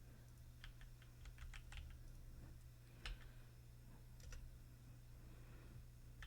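Quiet computer keyboard typing in scattered bursts of light, rapid key clicks with pauses between, heard alone over a faint steady hum.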